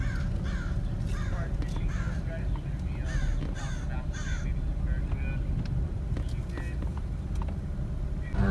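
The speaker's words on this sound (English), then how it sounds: "Those crows" Several crows caw repeatedly in harsh bursts over a constant rumble of traffic at Dana Point Harbor, California, with people talking faintly in the background.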